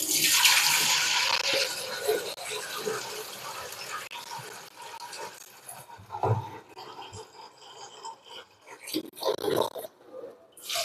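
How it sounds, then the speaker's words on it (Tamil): Ration rice being rinsed by hand in water, with sloshing, swirling splashes and trickling pours, loud at first and then breaking into intermittent splashes and drips up close. "ஃபஸ்ட்டு வந்து நம்ம ரேஸை அப்படி அலசிட்டு தண்ணி எடுத்துடணுங்க."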